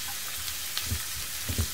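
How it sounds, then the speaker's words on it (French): Sliced bell pepper strips hit a hot pan for a Tunisian ojja with merguez, giving a soft, steady sizzle with a few faint clinks and bumps. "Ensuite, je verse mes poivrons découpés en lamelles."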